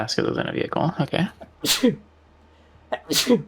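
Two sharp sneezes from a person during a livestream chat, each a quick inhale burst followed by a loud explosive release, heard close after a stretch of talking.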